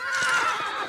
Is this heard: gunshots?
no